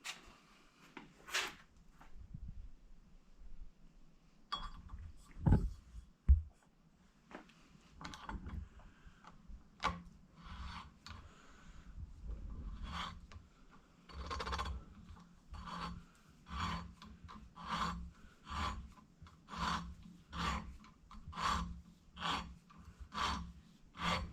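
A valve seat cutter makes a 60-degree cut on a 1979 Honda Goldwing cylinder head, giving a steady series of rhythmic rasping scrapes, close and moderately loud, with no talking.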